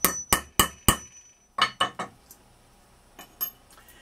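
A metal snap setting tool struck with a hammer to set a ligne 24 leather snap gives a series of sharp, ringing metallic blows, several quick hits followed by a few lighter taps, close and clear.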